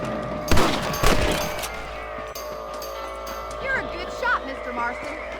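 Gunshots from shooting rabbits out on the range in Red Dead Redemption: two loud, close shots about half a second apart, followed by quieter game ambience and faint rustling.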